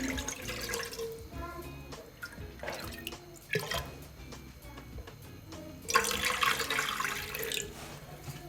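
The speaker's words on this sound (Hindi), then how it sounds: "अब एक बर्तन में 2 प्याले पानी डालें।" Water splashes and trickles into a cooking pot in uneven bursts, two cups poured for gulab jamun syrup, with clinking and a louder gushing pour toward the end.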